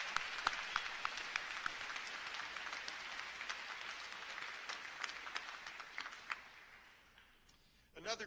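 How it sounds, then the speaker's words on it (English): Sustained, faint applause from a high school graduation audience, a dense sparkling wash of clapping with occasional sharper individual claps that gradually tapers off before a voice comes in at the end. "Let's have a round of applause for all of our guests."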